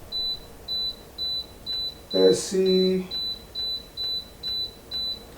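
Buttons on a Pelonis 42-inch tower fan chirp in a steady run of about ten short, evenly spaced beeps while the timer is set, with a person speaking briefly partway through.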